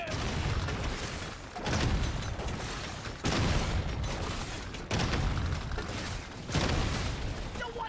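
Electric attack blasts and explosions in the game Deep Rock Galactic: Survivor, a continuous crackling barrage broken into loud bursts that reset every second or so, with no talking.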